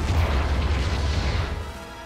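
A mobile suit blows up in Gundam Battle Operation 2, a loud, dense booming explosion with a rumbling low end that fills the whole moment and slowly tapers off, with no talking.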